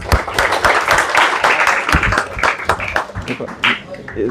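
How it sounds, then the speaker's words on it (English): A group claps together in a lecture hall during a student stress-management session, dense overlapping hand claps filling the room with a few brief pauses, loud and close. "So we'll do one clap for all of us."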